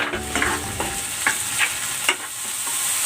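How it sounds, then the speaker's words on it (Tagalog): Tomatoes and onion sauté in a pan with a steady close sizzle, broken by a few soft scraping stirs. "Igisa na rin natin itong kamatis."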